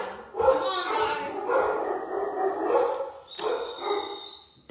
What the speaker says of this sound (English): You take care of your dog, girl.